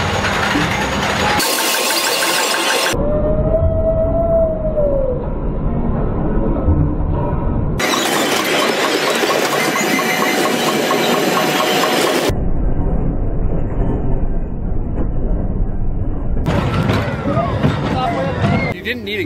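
A kiddie roller coaster train runs at Knott's amusement park, giving a loud, steady mechanical rumble and clatter that swells and drops in blocks, with crowd babble mixed in.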